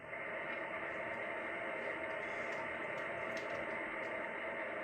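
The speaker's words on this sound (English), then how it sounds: "Sounds like static." Steady broadband hiss of static from an old radio, loud and unbroken throughout with faint crackling flickers near the top, no voices.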